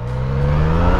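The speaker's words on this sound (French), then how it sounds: "Ah, le moteur, ça me fait marrer le son parce que ça me fait penser à mon street, mais avec un son un peu étouffé." Engine of a Yamaha MT-09 Tracer three-cylinder motorcycle hums steady and loud, a slightly muffled continuous drone heard up close while riding.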